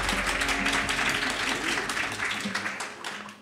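An audience applauds to welcome panel guests at a conference on universities and future companies, steady clapping mixed with voices and some background tones, fading toward the end.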